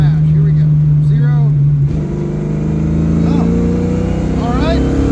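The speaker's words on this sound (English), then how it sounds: "Full throttle mash." A carbureted car engine pulls at full throttle in third gear from around 3000 rpm at 45–50 mph, a steady loud droning roar that climbs in pitch, with a voice briefly speaking over it.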